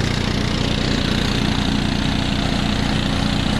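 A steady, droning engine from an MEP-802A military generator running at a little over full load, continuous with a low rumble and constant loudness, no voices present.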